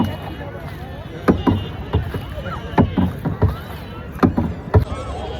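A small boat draws up to the landing stage of a lake in Dhaka, its hull thudding and sloshing through water in irregular knocks and splashes, close and moderately loud.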